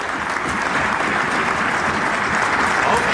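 Applause at a meeting of NDA legislators in Bihar, a thick, continuous roar of many people clapping together, loud and even throughout with no gaps.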